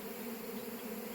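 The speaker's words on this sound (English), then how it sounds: "The few bees that are landing back on the tree." A swarm of honey bees flies around a tree, producing a steady, dense buzzing drone that stays faint and even throughout, with no voices over it.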